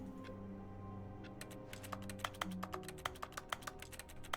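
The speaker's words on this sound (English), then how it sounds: "Typing noises." Keyboard typing in The Stanley Parable: Ultra Deluxe, a quiet run of sharp key clicks that grows denser and more rapid after the first second, over a soft steady hum, with no voices.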